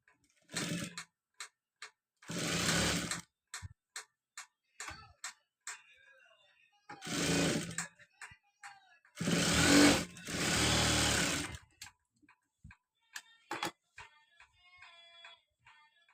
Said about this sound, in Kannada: ಆರ್ಮೋಲ್ ಕೂಡ ಸ್ಟಿಚ್ ಮಾಡೋಣ.